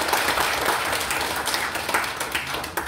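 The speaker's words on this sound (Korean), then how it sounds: "여러분들의 큰 환영의 박수 저도 만족합니다" An audience at a mental health policy public hearing gives a welcoming round of applause, a dense, sustained patter of many hands filling the hall with no speech over it.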